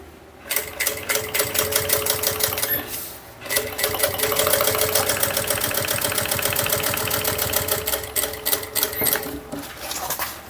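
Sewing machine stitching a fabric bag, running in a fast, steady mechanical chatter for several seconds with brief pauses at the start and middle, loud and close.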